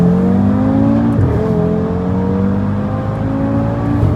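An Audi RS3 with a Stage 2 tune pulls hard in first gear, its engine note a loud, continuous rising drone heard from inside the car with no talk.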